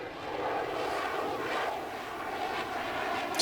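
An F-35 Lightning fighter jet flying high-alpha manoeuvres at an airshow gives off a continuous, broad roaring engine rumble from a distance, swelling and easing slightly, with no voices over it.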